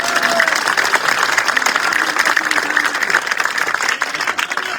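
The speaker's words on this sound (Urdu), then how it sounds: "علی محمد خان کا میں ذکر ہر جگہ کرتا ہوں، اس کے لیے تالیاں بجائے" A rally crowd at a political speech breaks into loud, dense applause and clapping that runs steadily throughout, with some crowd noise mixed in.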